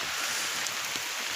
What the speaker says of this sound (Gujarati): વરસાદ પડ્યો જો